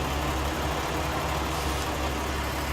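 Tractor engine idling in the farming game Farming Simulator 19, a steady, dense mechanical rumble with no breaks, loud and constant throughout.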